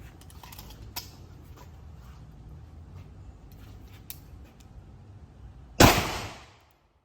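Single gunshot fired to test an amulet, one sharp loud crack near the end that decays quickly after a stretch of faint background ticks and rustle.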